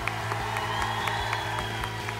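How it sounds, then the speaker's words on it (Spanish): Audience applause at a televised children's singing competition in Colombia, a steady, dense wash of clapping that runs the whole way through, with a rhythmic music beat pulsing underneath. "Ese aplauso, que se sienta, por favor."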